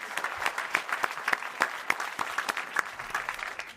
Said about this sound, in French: Je vous demande d'applaudir Léa Drucker et Michael Youn.